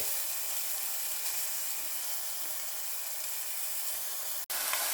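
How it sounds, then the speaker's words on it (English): A roast sears in a lidded pan with a steady bright sizzle and hiss, close and constant, broken by one brief dropout near the end. "even while I'm searing it up"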